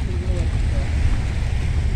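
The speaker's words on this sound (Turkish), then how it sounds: "Arabalı vapur." Steady low engine rumble of a car ferry on the Bosphorus in Istanbul, with broadband wind and water noise, continuous and fairly loud throughout.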